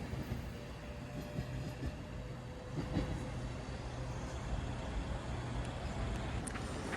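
An electric Class 390 passenger train departs Stoke-on-Trent station, rumbling steadily with a low, continuous roar and faint rail clatter, heard from nearby at a moderate level.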